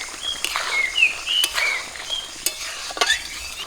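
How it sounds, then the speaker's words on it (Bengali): Bele fish frying in a pan are stirred, with several scraping strokes over a soft sizzle while birds chirp in the background. "মাছগুলো দিয়ে একটু নাড়াচাড়া করে নিয়ে এবারে রস করার জন্য অল্প করে জল দিয়ে দেবো"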